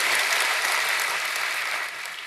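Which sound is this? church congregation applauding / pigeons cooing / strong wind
church congregation applauding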